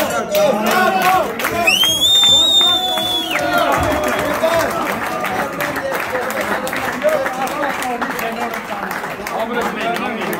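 Applause from a crowd honoring soldiers at an engagement and birthday celebration for a badly wounded soldier, steady clapping with cheering and babble of voices throughout, mixed with people talking.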